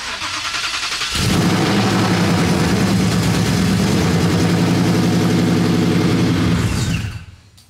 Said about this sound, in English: This is the 2-week cold start with the valves closed on my Mustang.